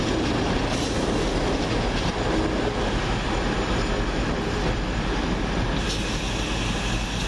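Class 220 Voyager 220.033 on the move at Wolverhampton station, a constant loud roar of diesel engines and rolling wheels with faint squeals and rail clatter throughout.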